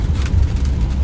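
A car towing a van rolls along a bumpy road on a highway trip, its steady low road rumble and wind roar filling the clip close and loud without pause.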